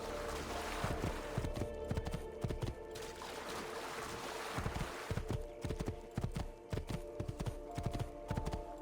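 Horse hooves clip-clopping at a steady gallop in Assassin's Creed II, rhythmic thuds close by with game ambience and occasional faint voice underneath.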